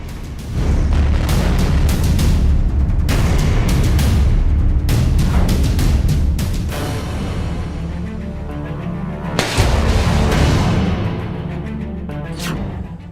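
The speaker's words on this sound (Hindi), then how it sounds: "32वें दिन भी भीषण बमबारी जारी है।" Heavy explosions from Russian bombardment in Ukraine, a series of loud booms with long rumbling decay, one sharp blast near the end, continuous and close without speech.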